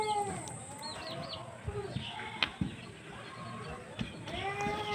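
A hunting pigeon calls in short, repeated, sweeping chirps and coos at close range, mixed with other faint bird sounds, while a person talks over them.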